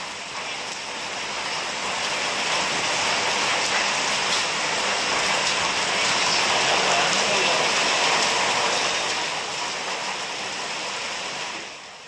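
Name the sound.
heavy unseasonal rain with thunder in Kolhapur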